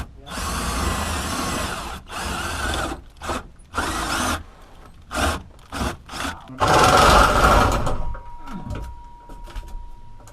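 A power drill bores holes through wood beneath a bus carriage during a gray water tank installation, starting and stopping in repeated whirring bursts of uneven length, including one longer run near the end, up close and loud.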